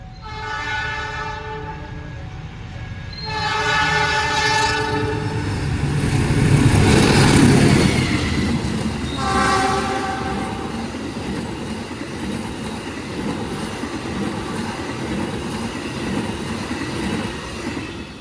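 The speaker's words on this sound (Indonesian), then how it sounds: "ini adalah kereta api dari arah timur dan sepertinya ini kereta api jarak jauh sih ya" A long-distance passenger train passes by in Indonesia with loud, steady rumbling and rolling wheel noise, and a horn sounds in several long blasts near the start and again midway.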